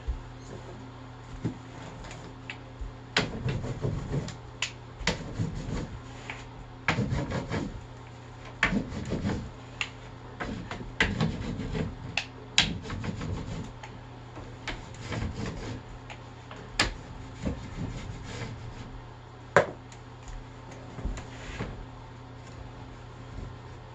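A hot wax iron gliding over the base of a Nordic ski, heard as soft rubbing and scraping passes with scattered small ticks and knocks, close and fairly quiet, with no talking.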